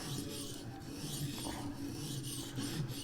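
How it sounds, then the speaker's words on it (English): A Vipersharp sharpener works the edge of a carbon steel nail in a steady, close, faint rasping rub that continues throughout with slight rhythmic swells. "We're gonna sharpen until we feel like we have our burr."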